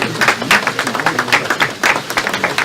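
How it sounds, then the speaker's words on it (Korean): Applause at a Liberty Korea Party event, with a dense, close burst of many hands clapping steadily through the moment. "박수 한번 부탁드리겠습니다"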